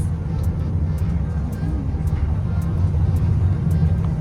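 Crew bus interior while riding, with a steady low engine rumble and road drone running throughout at moderate volume, punctuated by faint periodic high ticks, no one speaking.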